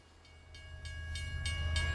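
A train rumbles steadily with low engine drone and a sustained horn-like tone, while rhythmic clacks of wheels on track repeat and grow louder.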